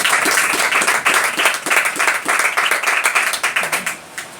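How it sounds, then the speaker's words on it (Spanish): Church congregation applauding during a sermon, dense sustained clapping from many hands that fades out near the end, with no voices over it. "Dale el aplauso al Señor"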